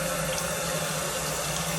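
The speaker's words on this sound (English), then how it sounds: "I'm gonna scrub my shirt one more time, or try to, with some hot water" Hot water pours steadily from a tap into a sink while a shirt is scrubbed, giving a dense, constant rushing hiss with no pauses.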